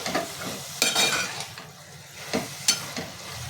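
Cooked vegetables, softened mushrooms among them, being stirred in a pan for mushroom fried rice, with a spoon scraping and clinking in several separate strokes against a soft sizzle, close and moderately loud.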